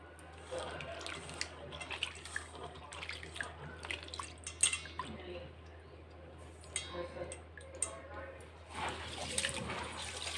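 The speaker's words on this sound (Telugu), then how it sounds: "ఈ విధంగా వాటర్ పోసుకొని మంచిగా కడిగేసుకోవాలి" Water is poured over grains being washed by hand for homemade baby cereal, giving irregular splashes, drips and sloshing bursts at close range.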